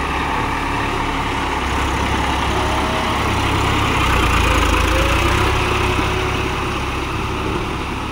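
A Massey Ferguson 246 4WD tractor working a rotavator in first gear medium at about 1550 RPM, its diesel engine a loud, steady, deep drone that holds without a break.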